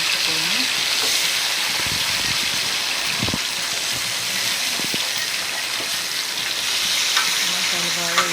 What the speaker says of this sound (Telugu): కరివేపాకు, టమాటాలు వేసి బాగా కలుపుకొని